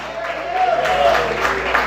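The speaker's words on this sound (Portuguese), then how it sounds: "você pode aplaudir e exaltar ao nome de Deus" A church congregation applauds and cheers in praise to God, a short burst of crowd clapping mixed with voices, fairly close and full.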